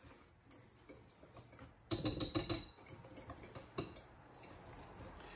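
Melted butter whisked through tortilla flour in a bowl, a burst of quick rattling scrapes and clinks from the whisk around 2 seconds, then lighter scattered taps, close and fairly quiet.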